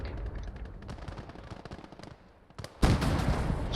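Automatic gunfire in the war game Call to Arms: Gates of Hell, a string of rapid distant shots that ends in a sudden, louder close-range burst.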